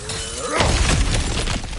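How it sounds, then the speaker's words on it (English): Breakable objects smashed apart in God of War Ragnarök: a single loud shattering crash followed by scattering debris clatter. "back to smashing through things for fun and profit"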